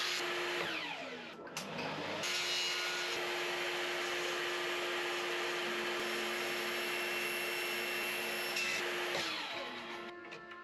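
A vacuum cleaner sucks up sawdust in a quiet workshop, a steady airy rush with a thin whine that kicks on, holds evenly for several seconds, then winds down.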